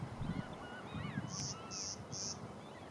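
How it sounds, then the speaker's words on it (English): A clay-colored sparrow repeats three short, high buzzy notes in an even series, over outdoor background noise with distant bird calls. "this is one of them right here called a clay-colored sparrow."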